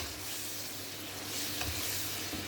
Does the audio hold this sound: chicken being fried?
yes